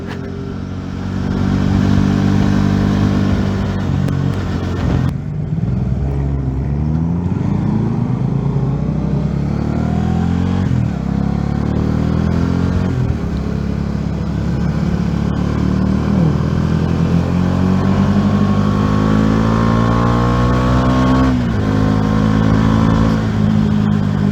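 A Bajaj Dominar motorcycle chases a Porsche along the Darlık roads, its engine droning loudly and continuously with rising and falling revs and gear changes, with no voices over it.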